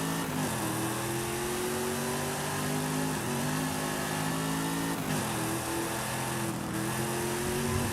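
Sustained car engine in Forza Horizon 5 revving up and accelerating, with harmonic pitch climbing then dropping at quick gear shifts around the third and fifth seconds, loud and continuous with no talk.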